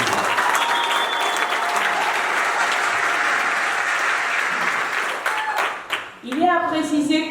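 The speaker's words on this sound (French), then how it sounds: "Vos applaudissements, mesdames et messieurs." Loud, dense applause from a wedding crowd rolls on steadily for several seconds, thins briefly, then gives way to a short burst of tonal sound at the end.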